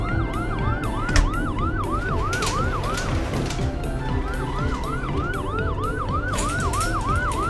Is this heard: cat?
no